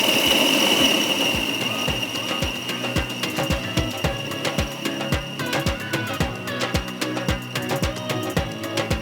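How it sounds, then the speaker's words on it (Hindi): An electric food chopper runs with a steady whirring drone while chopping a kebab mixture, its blade knocking out rapid regular ticks and clatters throughout, close and fairly loud with no talking. "ये सारी चीज़ें डालने के बाद अब चॉपर को चलाते हैं"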